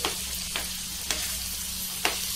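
Paneer tikka pieces sizzle steadily in a hot pan, with a soft continuous fry under four separate sharp flips or turns spaced through the clip, moderately quiet and close.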